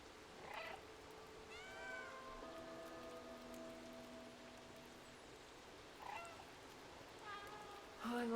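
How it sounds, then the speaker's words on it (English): A cat meows in the video game Stray, a few faint, drawn-out calls spread across the stretch over a quiet background, with a couple of short sharper meows near the end. "Oh, I love making these little cat sounds."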